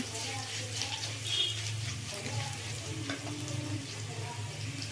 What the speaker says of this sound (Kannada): ಈಗ ಈರುಳ್ಳಿ ಚೆಂದಾಗಿ ಫ್ರೈ ಆಗಿದೆ.